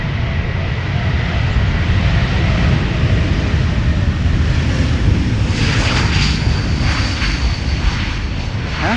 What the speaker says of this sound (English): That is the E2 Embraer 195, very easily recognizable.